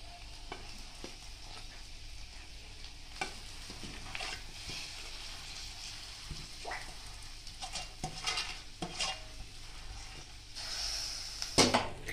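Mashed boiled potatoes with turmeric are stirred and scraped in a pan, making soft, close sizzling with irregular spoon clatters against the metal, growing busier toward the end.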